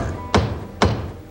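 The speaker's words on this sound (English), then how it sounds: "there was a knock at my door" Two knocks at a door, evenly spaced and fairly loud, each a sharp broadband thump standing out against a quiet room with a faint low hum, in a children's TV cartoon scene.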